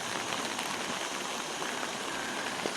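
Steady rain falls at a retention pond, a dense, even hiss of drops with occasional louder patters, continuous and close, with no voices.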